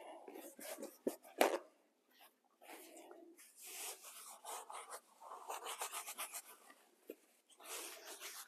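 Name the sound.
wiping oil off epoxy floor with paper towels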